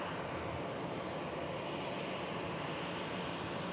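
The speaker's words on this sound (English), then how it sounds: "Coming in from Faro, this EasyJet Europe aircraft. Airbus A320-200 series." An EasyJet Europe Airbus A320-200 arriving from Faro at Manchester Airport, its engines a steady, broad roar that holds loud and unbroken throughout, with no voices.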